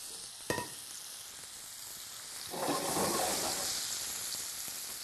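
Potatoes in olive oil sizzle in a pan: after a single sharp clack, a dense frying hiss swells up and holds steady, close and fairly quiet with no talking over it.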